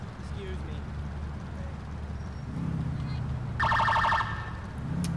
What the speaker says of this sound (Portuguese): Estou ouvindo sirenes.